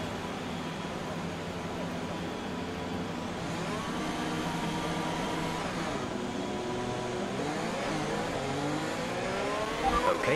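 Race car engine in the F1 2021 video game at the Singapore circuit, droning steadily with rising and falling harmonic sweeps as it revs through the gears, a continuous close hum with a brief louder burst at the end.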